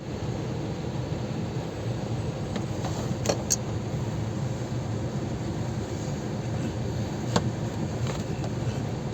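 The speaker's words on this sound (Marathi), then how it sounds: "खूप ट्रॅफिक आहे." Heavy road traffic on the Thane to Nashik route rumbles steadily inside a car cabin, a continuous broad engine and road noise with a few faint higher ticks and no talking.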